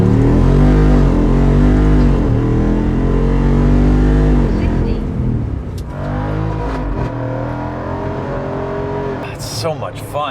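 A 2024 Jeep Wrangler JL 392 Final Edition with its V8 accelerates hard, a loud, deep engine roar climbing through the gears before easing off, with a person talking faintly over the tail end.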